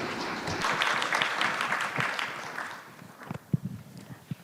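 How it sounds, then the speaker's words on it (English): Audience at a financial panel discussion applauding the panelists, a dense round of clapping that swells briefly then thins into a few scattered, louder claps and taps near the end. "Let's thank them with a round of applause."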